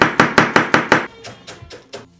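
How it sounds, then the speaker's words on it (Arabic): Knife chops salad vegetables into small pieces on a board for an Upper Egyptian home lunch, six quick loud evenly spaced thuds, then several softer scattered cuts fading out. "اهم حاجه في طبق السلطه عندنا في الصعيد انه يتقطع صغير"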